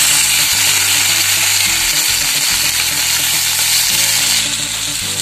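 Onion and tomato fry loudly in a pan for a Tamil pirandai chutney, a steady dense sizzle with low stirring thumps and scrapes running throughout.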